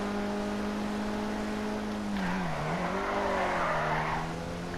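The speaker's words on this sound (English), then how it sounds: "Seems like you can do some pretty decent drifting in this car" Tires squeal while drifting an Invetero Coquette D10 sports car in GTA Online. A steady engine drone rises into a sustained screech that wavers and bends in pitch for several seconds, loud and close, with no voices.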